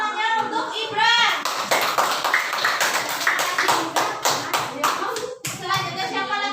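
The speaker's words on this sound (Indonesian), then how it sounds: "Tepuk tangannya untuk Ibran." Children in a primary school classroom clap their hands together in a quick, rhythmic burst of sharp claps, loud and close, with a teacher and children's voices talking before and after.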